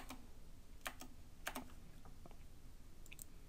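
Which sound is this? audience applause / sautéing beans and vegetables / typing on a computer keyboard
typing on a computer keyboard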